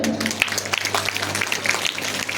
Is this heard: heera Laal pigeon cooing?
no